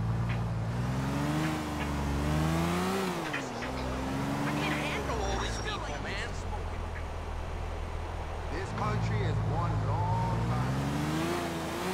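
Cars in GTA IV with an added real-car pack drive and accelerate, engines rising and falling in pitch with occasional tire squeal, while someone talks over the traffic throughout.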